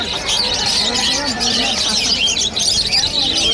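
Yellow parakeets at a pet shop bird market keep up a busy, overlapping chorus of high chirps and tweets, close and continuous, with faint voices underneath.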